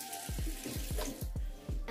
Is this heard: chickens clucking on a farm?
no